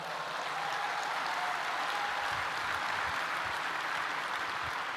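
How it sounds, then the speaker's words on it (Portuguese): Church congregation applauding during a congress service, a faint, distant, steady wash of clapping through the whole stretch. "Vamos dar um aplauso ao Senhor?"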